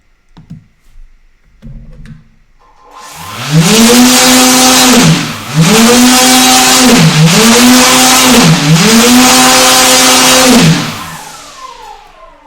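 A KDE5215XF-435 brushless motor under VESC control spins up to a loud high whine that rises and falls in repeated sweeps, then cuts off.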